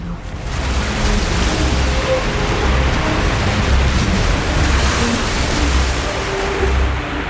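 Wind and ocean waves rush steadily around the racing sailboat Comanche during an Atlantic crossing, a loud, continuous roar of surf and buffeting air with no pauses.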